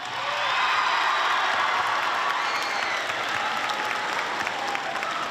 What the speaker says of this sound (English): So we want this to be a place where we cheer them on.